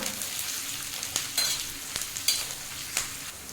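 Onions and curry leaves frying in a pan until golden, making a steady close sizzle with scattered crackles and stirring scrapes, no voices.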